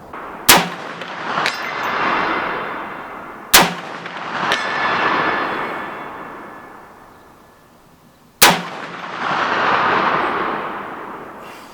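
Three loud, close gunshots from a .458 SOCOM rifle fired at steel targets 200 yards away, several seconds apart. Each blast rolls off into a long echo, with faint metallic clangs trailing soon after.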